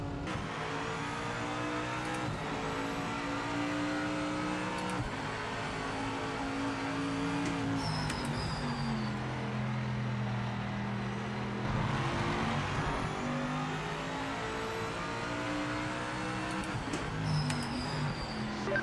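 Racing-game AMG GT3 race car engine lapping Imola, loud and continuous, revving up and down through gear changes with steady harmonic engine tones and occasional brief squeals.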